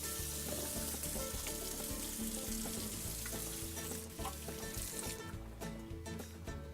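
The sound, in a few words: food sizzling on the grill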